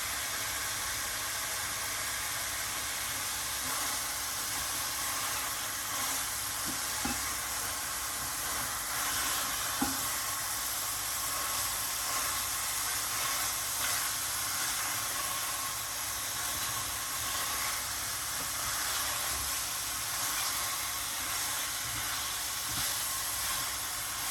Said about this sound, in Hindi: अब इसको हम अच्छी तरह भून लेते हैं। इसमें डालते हैं हरी मिर्च जो हमने काटी हुई थी सेंटर से।